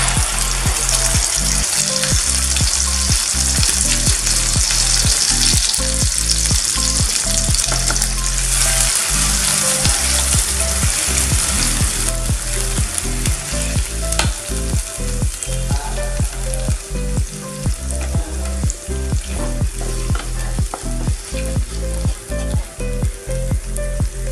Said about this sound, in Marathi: आता लगेच आपण बनवलेला मसाला टाकायचा,